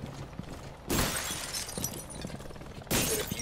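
Glass shatters under gunfire in the video game Rainbow Six Siege, two sudden crashing bursts about two seconds apart over a low background rattle, with no talk.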